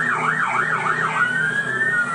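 A police car siren wails loudly and close by during a chase through the Newcastle CBD. The rising and falling yelp shifts into a steady high tone.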